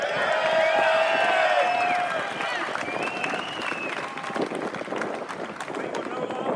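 A rally crowd of plumbers cheers and applauds loudly, a dense roar of clapping and shouting with whistle-like whoops over the top, easing slightly as it carries on.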